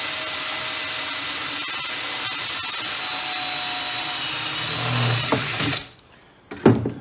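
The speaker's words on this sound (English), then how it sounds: "now I'm just going to make 5mm holes through the back" A power drill boring 5.5mm holes through the wood of a DIY seat box trolley, a loud steady whine for several seconds that winds down, followed by a brief clunk and rattle.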